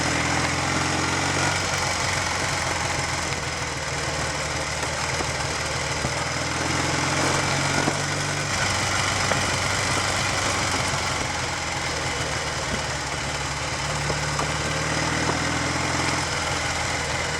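Triumph Tiger 100 motorcycle engine running steadily at low speed with the choke closed, a continuous close, loud mechanical throb with fast rhythmic firing and slight knocking vibration throughout, no talking.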